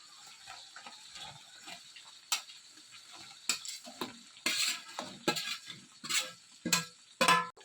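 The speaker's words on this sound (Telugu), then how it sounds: "ఈ చికెన్ అంతా కూడా ఈ అల్లం వెల్లుల్లి పేస్ట్ వేయించిన ఈ ప్యాన్లో వేసుకోవాలి" Chicken pieces going into a pan of fried ginger-garlic paste for a chicken pickle, giving soft sizzling under a string of sharp stirring and spoon-on-pan clinks and scrapes, close and fairly quiet, with no talking.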